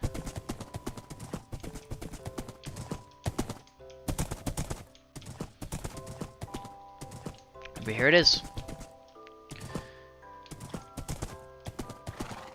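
Rhythmic hoof clops from a Minecraft horse, steady and fairly close, with a brief whinny partway through and a short line of speech.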